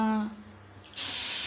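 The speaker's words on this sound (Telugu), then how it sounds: "టీ గ్లాస్ అన్న వాటర్ పోసుకున్నా" A tea glass of water poured into a pan of sugar on the stove gives a sudden bright hiss and splash that lasts about half a second, following a brief tonal sound and a quiet pause.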